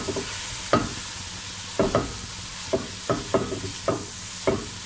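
Chicken pieces frying with onion in a pan, a steady sizzle broken by repeated scraping stirs of a utensil at an uneven rhythm, close and fairly loud.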